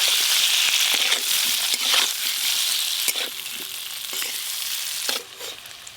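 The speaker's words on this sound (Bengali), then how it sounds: "এবার মশলা দিয়ে কচুগুলো ভেজে নেব" Boiled gathi taro frying in a pan with salt, turmeric, cumin and chili powder, giving a loud continuous sizzle with stirring clatter that eases near the end, no talk.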